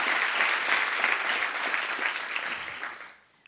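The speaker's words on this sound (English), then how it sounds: "Clap that up." Audience clapping during a motivational talk, a dense burst of applause that holds steady and then fades out near the end.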